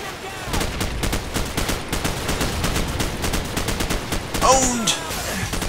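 Rapid bursts of automatic gunfire and scattered shots in Call of Duty 4: Modern Warfare, loud and continuous with a louder burst near the end, while a voice talks over the shooting.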